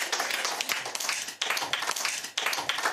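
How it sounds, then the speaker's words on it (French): An audience applauds a volunteer coming on stage, dense lively clapping in quick bursts with brief dips, loud and close, with no speech over it. "On l'applaudit très fort, s'il vous plaît."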